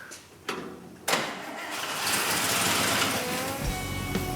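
An old car engine cranks with a couple of sharp clunks, then fires and settles into a loud, rough, steady run close by.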